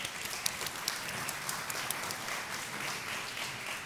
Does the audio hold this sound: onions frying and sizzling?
no